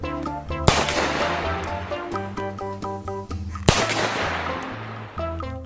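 Two loud, sharp Mauser pistol gunshots with echoing tails ring out a few seconds apart over steady background music in a video game.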